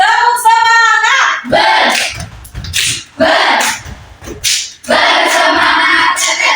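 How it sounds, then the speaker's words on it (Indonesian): A class of children doing a rhythmic spirit clap, with bursts of loud, close group claps in a chanted pattern alternating with shouted voices. "Oke, tepuk semangat."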